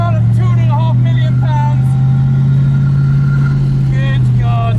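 Koenigsegg Regera hypercar in green carbon driving on a track, a loud, steady engine drone with a strong low hum that swells slightly midway, under continuous excited talking from inside the car.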